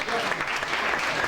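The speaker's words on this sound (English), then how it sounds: "we want to give yourselves a round of applause" Audience applause at a live soul music show, a dense steady wash of clapping that fills the whole stretch at moderate loudness.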